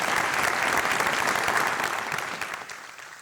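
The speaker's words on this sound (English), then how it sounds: "How about a round of applause for our 2020 recipients?" Sustained applause from an audience at a university awards ceremony, dense and steady clapping that fades slightly toward the end, with no voices over it.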